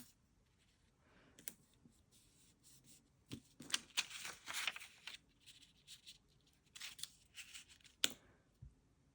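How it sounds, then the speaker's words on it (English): Soft paper handling sounds as washi tape is pressed onto junk journal paper: crinkles, light taps and a quick tearing rip, close and quiet with irregular bursts. "I'm actually just going to washi tape this on"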